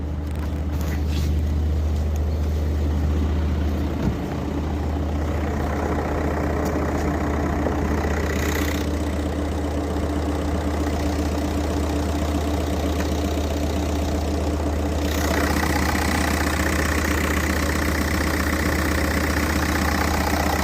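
A 2006 Volkswagen Golf Plus 1.9 TDI diesel engine idles steadily for the whole stretch, a low even rumble with light knocking, close by and without any talking.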